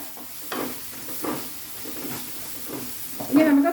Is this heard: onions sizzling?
yes